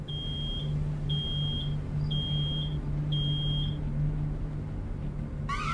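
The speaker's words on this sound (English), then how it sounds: "Oh no, something's beeping." An alarm in the video game Road 96 sounds four evenly spaced, steady electronic beeps over a low constant hum.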